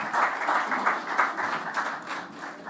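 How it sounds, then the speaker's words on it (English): An audience applauding at a bank branch commissioning ceremony in Manchester, a moderate crowd of hands clapping steadily at a slight distance. "A round of applause for him, please."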